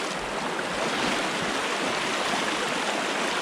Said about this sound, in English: This is going to be heavy current.